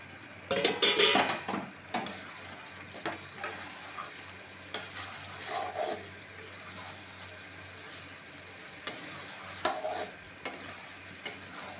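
Mutton fat is stir-fried with braised goat meat in a pan, giving soft sizzling under clattering spatula scrapes and stirring strokes, with a few louder bursts of metal on pan and quieter frying between them.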